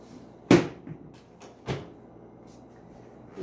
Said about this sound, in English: let's see how the drawers work now